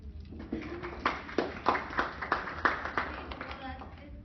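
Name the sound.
round of applause for quiz winners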